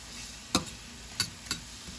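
Marinated chuck steak fries in a pan with olive oil and butter, a faint steady sizzle broken by three sharp utensil clicks, with no talking.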